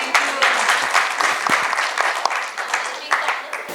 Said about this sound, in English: A very big round of applause for this wonderful panel.